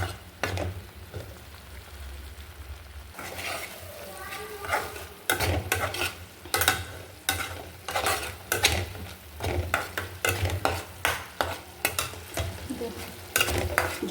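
Fish curry sautéing in a pan with a little added water: a soft, continuous sizzle broken by repeated scraping, stirring strokes of a utensil against the pan, close up.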